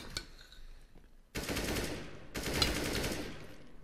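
Two long bursts of rapid automatic gunfire ring out in CS:GO, loud and close, each lasting about a second with a short gap between them.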